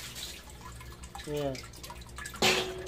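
Water drips from a DIY auto-refill water tank, a few quiet drops under a person speaking briefly nearby, with a sharper splash near the end.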